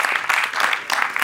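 Audience applause at a book launch in Chandigarh, a brief, loud burst of many hands clapping together.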